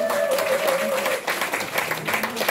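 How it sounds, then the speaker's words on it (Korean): Audience applause at a Korean 7080 concert: a brief burst of scattered clapping of moderate loudness, with some voices mixed in. "박수 한번 주세요."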